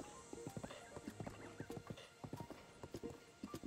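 Rhythmic clip-clop of horse hooves trotting steadily in The Legend of Zelda: Breath of the Wild, with a brief whinny-like tone partway through and a faint background ambience.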